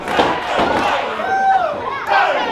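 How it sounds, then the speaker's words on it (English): A wrestling crowd roars and cheers loudly in an arena during a three-way match, with a sustained surge of voices, a few whistles or shouts rising above, and a commentator's voice underneath. "You hear the crowd, they want a sacrifice."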